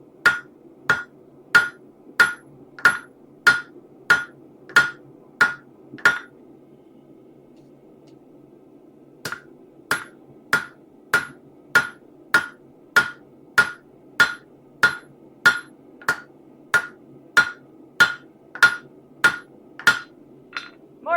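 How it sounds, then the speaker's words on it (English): A hammer strikes hot metal in a forge shop in steady, ringing blows about every half second, a run of rapid hits, a pause, then another long run, loud and close with a faint hum beneath. "It helps if I actually aim the hammer correctly."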